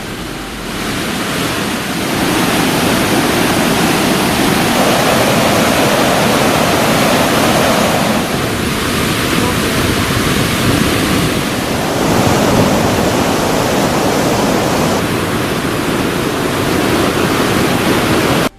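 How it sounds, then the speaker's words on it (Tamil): Water roars steadily down the main falls, Cini falls and Ainthruvi at Hogenakkal in flood, a loud broadband rush that never lets up and sits close, with no voices over it. "மெயின் அருவி, சினி அருவி, ஐந்தருவியில் தண்ணீர் ஆர்ப்பரித்து கொட்டுகிறது"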